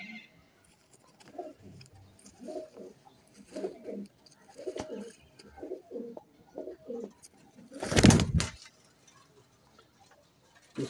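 Teddy Golden pigeons at a loft in Lahore coo in a steady series of soft, low, throaty phrases, close by, with a brief loud rustle or clatter near the end and no talking.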